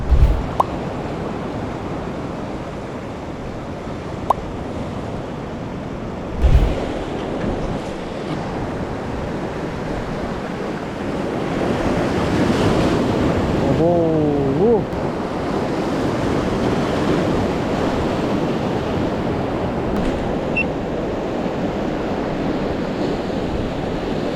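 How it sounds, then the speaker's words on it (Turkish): Large sea waves crash onto the shore during a storm, a continuous heavy roar of surf mixed with gusting wind buffeting the microphone, with a couple of sharp thumps early on and the roar building louder midway. "dalgalara bakın inanılmaz dalga çıktı"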